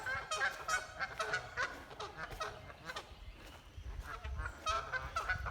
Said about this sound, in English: Oh, some geese over there. Must be protecting their territory.